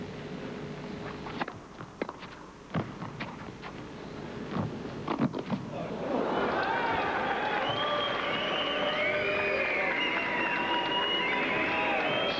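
Tennis crowd at a 1993 Paris quarterfinal between Edberg and Stich, scattered sharp ball and court sounds giving way to a sustained crowd roar with many overlapping whistles rising and falling.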